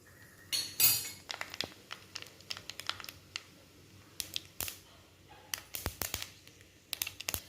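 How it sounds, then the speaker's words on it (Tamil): Mustard seeds spluttering in hot oil in a clay pot, sharp irregular pops and crackles bursting in quick clusters against a quiet background, some louder snaps standing out. "கடுகு பொரிஞ்சிருச்சு"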